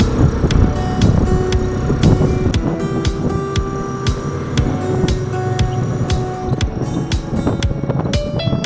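Two motorcycles, small Super Badya-type bikes, riding along a road together, a steady broadband engine and wind rush with rattling clicks throughout, loud and close, with no voices.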